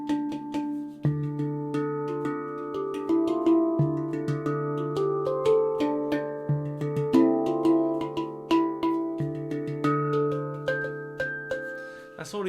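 Handpan played with ringing harmonic overtones layered over sustained, resonant tones, notes struck in a steady, gentle rhythm that blend into a continuous shimmering wash, heard alone with no talking.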